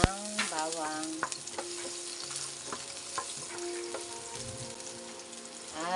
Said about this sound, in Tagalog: Mag-isa tayo ng bawang.